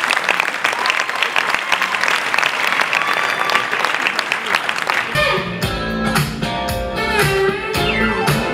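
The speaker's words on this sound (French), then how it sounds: "Merci Paul, on peut applaudir encore Manade de Laurent pour le taureau 703" Sustained applause from a crowd at an evening prestige ceremony in Lunel honouring bull 703 of a Camargue manade, dense and loud throughout, then joined by music with a beat in the final seconds.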